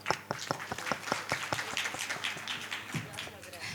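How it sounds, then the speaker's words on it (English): An audience at an award ceremony breaks into applause, a run of sharp, evenly spaced claps that soon blurs into denser clapping, moderately loud and close. "So another round of applause for yourself."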